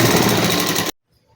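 A sewing machine runs in a fast, close, loud continuous whir of stitching as blouse fabric and lining are sewn together, then stops abruptly into near silence.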